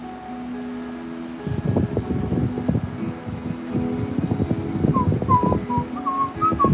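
A person whistles a short run of bright notes near the end, over gusty wind noise and rustling outdoors, with a low steady tone and scattered rough thumps earlier on.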